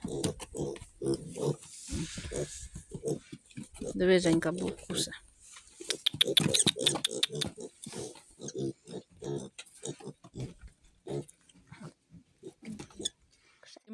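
A pig grunts and snuffles close by in short bursts while someone talks over it in a quiet setting.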